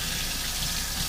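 Water runs steadily from a kitchen tap as a utensil is rinsed under it, a constant close splashing hiss with no talking.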